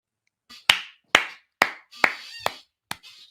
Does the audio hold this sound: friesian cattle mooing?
no